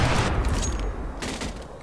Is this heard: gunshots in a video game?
yes